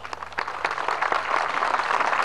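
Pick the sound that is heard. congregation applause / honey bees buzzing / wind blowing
congregation applause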